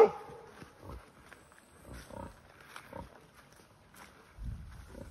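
Scattered grunts and snorts from large wild pigs in a Serbian national park, low and rough, come in short bursts with quiet gaps between them.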